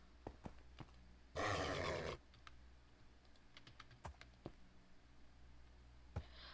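A horse in a video game gives one loud, bright whinny of about a second, heard over quiet scattered clicks of keyboard typing.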